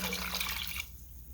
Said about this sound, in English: So I'm going to go ahead and pour that in.